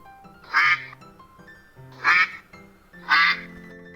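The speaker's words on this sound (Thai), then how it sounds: "1. เสียงเป็ด" A duck quacks three times, loud and close, each call a short burst spaced about a second and a half apart, with quiet background between calls.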